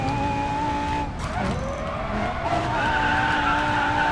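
A race car in the Racing Master video game powers out of a corner, its engine droning loudly with a tire screech midway and a rising engine pitch as it accelerates.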